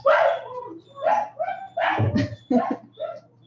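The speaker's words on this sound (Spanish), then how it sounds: "ya terminaron de aullar" Several dogs barking and howling close by in a series of drawn-out yowls and yips, with a steady low hum beneath.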